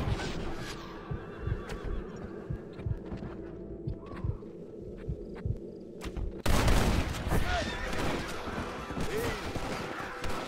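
A horse whinnies in the Red Dead Redemption game amid clip-clopping hooves and a sudden burst of gunfire midway, with a voice urging the horse on.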